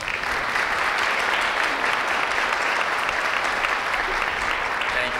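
An audience claps steadily to welcome a presenter onto a stage, a sustained wash of applause at an even level throughout with no pauses.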